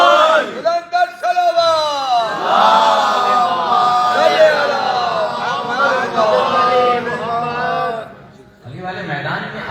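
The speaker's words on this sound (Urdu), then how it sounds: "علی کا نام سن کر حیدری نعرے لگاتے ہیں" A large congregation at a majlis at the Haram Imam Ali shrine in Najaf chants Haidari slogans, loud and close. Many voices roar together in sustained waves, with short pauses between bursts of chanting.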